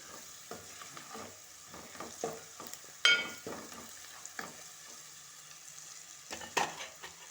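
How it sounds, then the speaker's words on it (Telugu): Ginger-garlic paste frying in a pan for a chicken curry, stirred with repeated quiet scrapes in an irregular rhythm over a soft sizzle, two of the strokes sharper and louder. "ఇందులోనే అల్లం వెల్లుల్లి పేస్ట్ వేసానండి"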